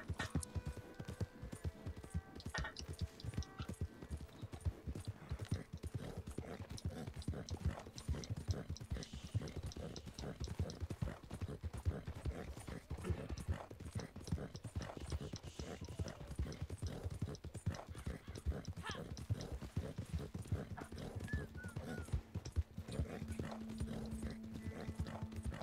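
Horse hooves in the Red Dead Redemption 2 western video game: steady, rhythmic clip-clop of a horse moving at pace throughout, with faint creaks of tack and a brief whinny-like sound.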